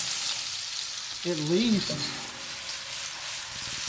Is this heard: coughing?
no